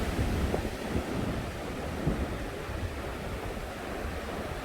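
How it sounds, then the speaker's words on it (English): Surf rolls steadily onto long Khao Lak Beach in Thailand, a continuous wash of waves mixed with gusty wind buffeting close by. "this is Khao Lak Beach, which is a very, very long beach"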